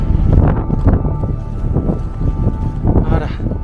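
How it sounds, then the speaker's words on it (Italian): Strong wind buffets the microphone high on the Colle del Sommeiller mountain pass in Piedmont, a steady loud roar with gusting bursts, while people talk over it. "adesso troppo vento."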